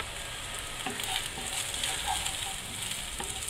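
Onions with ginger garlic paste frying in a kadhai and being stirred, a steady close sizzle with soft spatula scrapes recurring every second or so, no voices.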